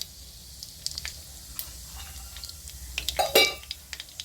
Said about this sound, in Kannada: ಈಗ ಸಾಸ್ಮಿ ಚಟಪಟ ಅನ್ನಕತ್ತವ